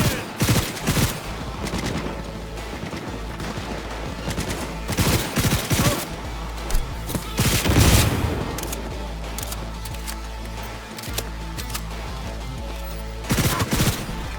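Gunfire in the Cyberpunk 2077 video game arrives in repeated loud bursts of rapid shots with brief gaps, over a steady low background hum.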